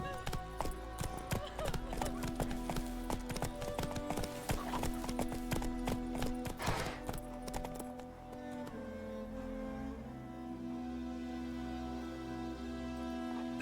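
Horse hooves clip-clop at a quick, steady gallop in The Witcher 3, loud and close with game music ringing beneath, then the hoofbeats fade as the horse slows near the end.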